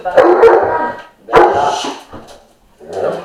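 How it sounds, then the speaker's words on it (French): A dog barks three times nearby, loud and sharp, with short pauses between the barks. "Non, c'est le chien."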